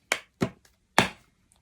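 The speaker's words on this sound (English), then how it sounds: "Here's the first cut." A few sharp, close taps of cards being cut and set down, three distinct hits with short pauses between, no talking.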